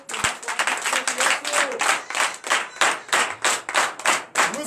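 A church congregation claps rhythmically in unison at a Sunday worship service, steady beats of many hands filling the room, with voices mixed in underneath.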